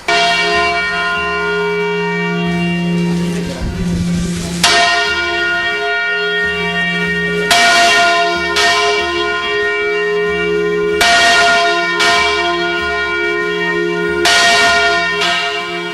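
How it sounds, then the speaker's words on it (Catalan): The Assumption bell in Albaida, a 931 kg bell tuned to F and hung on the west face of the tower, rings in loud repeated strokes roughly every three to four seconds. Each stroke leaves a long humming tone that carries between strikes, and no one speaks. "Aquesta campana està orientada a la cara de ponent, és la dedicada a l'Assumpció de la Mare de Déu, pesa 931 quilos i és la nota fa"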